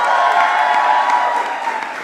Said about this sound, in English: Please give Roxana a huge round of applause